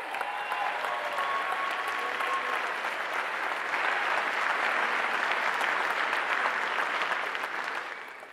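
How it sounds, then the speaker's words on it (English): A crowd gives a round of applause for the teachers and office staff of an adult education school. The clapping is full and continuous, swelling in the middle and tapering off at the very end. "Everyone, please join me in giving them a round of applause."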